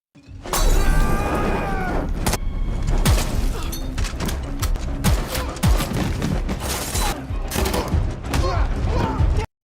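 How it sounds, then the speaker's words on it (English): Heavy gunfire fills a film action scene as soldiers shoot at a man, with dense, loud overlapping bursts and sharp cracks that continue almost without pause. "Sam then came under heavy fire from Tamara's surviving soldiers."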